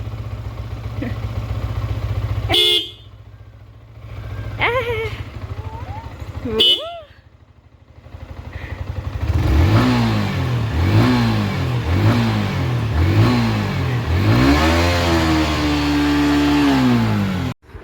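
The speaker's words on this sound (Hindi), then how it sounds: "सहज के पापा गाइस जा रहे हैं काम पे। ये बाइक से उतरने का नाम नहीं ले रही।" A motorbike engine revs repeatedly, loud and close, in rising and falling surges as the father leaves home for work with a small child who clings to the bike, after a brief honk and quieter idling with some talk.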